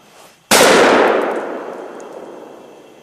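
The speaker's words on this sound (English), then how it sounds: "All right, he's gonna shoot it now." A rifle shot fired at a deer during a hunt rings out as one loud, sharp crack that decays into a long rolling echo through the woods.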